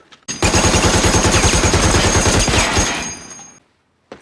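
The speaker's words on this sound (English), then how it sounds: "2 short bursts, 3 to 5 rounds." Machine gun fire from a Pacific War drama, a loud close rapid burst of rounds lasting about two and a half seconds, then a short ringing tail and silence.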